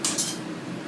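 A whisk stirs apple pie filling in a bowl, with two quick bright metallic clinks followed by a softer, fading scrape, close by.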